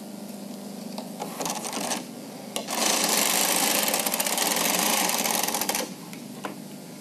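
A Bond Classic knitting machine knits a lace pattern, its carriage clattering in short passes and then one long, steady rattling sweep, close and fairly loud, with no speech.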